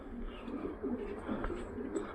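Pigeons coo softly and repeatedly outdoors in hot weather, low rolling calls under a faint background hum.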